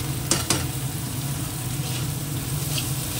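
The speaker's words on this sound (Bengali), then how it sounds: "একটুখানি চিকেন দিয়ে দিলাম, এটাও একটু ভেজে নেবো এই বাটারের ভেতরে।" Chicken pieces fry in butter in a pan for soup, giving a steady close sizzle. A couple of sharp clinks of stirring come near the start, and no one speaks.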